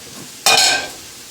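Pineapple fried rice with chicken and vegetables tossed in a hot pan, a sudden close sizzling burst with scraping as the pineapple is mixed in, fading after about half a second.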